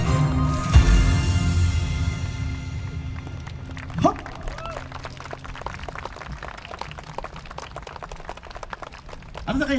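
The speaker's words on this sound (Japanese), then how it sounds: "温かい拍手ありがとうございました。" Audience applause at the stone-stage venue of a yosakoi dance festival: music fades in the opening seconds, then scattered outdoor clapping continues with a brief vocal cry partway through.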